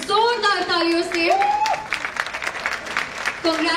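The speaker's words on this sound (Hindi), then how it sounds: "तो फिर से जोरदार तालियों से" Applause from the audience after a student stage play by a Department of Performing Arts, rising in the middle of the clip between stretches of an announcer's voice.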